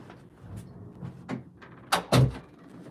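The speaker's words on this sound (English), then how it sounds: "I just want to close the door" A door being pushed shut indoors, with soft shuffling and movement before a pair of sharp thuds near the end, the last one loudest as it latches.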